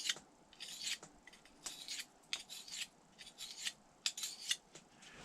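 A knife edge is stroked over a sharpening stone wetted with spit, each pass making a short close rasping scrape in an uneven repeated rhythm, quiet and with no talk.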